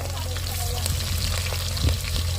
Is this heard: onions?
yes